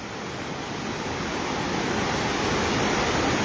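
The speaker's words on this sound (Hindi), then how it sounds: "देख पा रहे हैं कितना भयंकर पानी है" Fierce floodwater of the flooding Gambhir river near Sawai Madhopur, a loud, broadband roar of rushing water that stays steady and gradually swells, with no voices over it.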